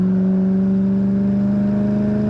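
Supercharged 4.6-litre 2006 Ford Saleen Mustang with a five-speed, heard from inside while cruising down the road: a steady, loud low engine drone with strong even harmonics, holding constant throughout with no voices.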